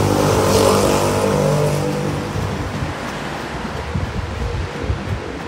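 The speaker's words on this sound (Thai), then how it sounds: "โอ้มีลมหน่อย" Gusty wind rushes outdoors beside a canal along a city street, a loud broadband roar that swells early and then eases into steady buffeting with low rumbling.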